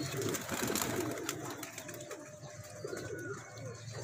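Teddy pigeons coo softly in low, throaty repeated calls against a busy background of ambient noise.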